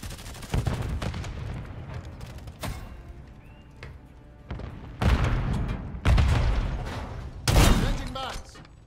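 Semtex grenade and gunfire in the video game Call of Duty Warzone: several loud booming blasts and bursts of shots spaced irregularly over several seconds, with quieter gaps between them.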